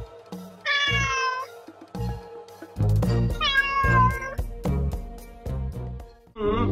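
A cat meows in several drawn-out, wavering cries, loud and close, with thumps and bumps of movement between the calls.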